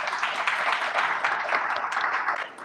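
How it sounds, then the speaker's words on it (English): A round of applause for speaker challengers at a Washington mobility and transportation event, dense and fairly loud, sustained clapping from a roomful of people with a few cheers, steady for the whole stretch. "So please join me, a round of applause for all of our speaker challengers."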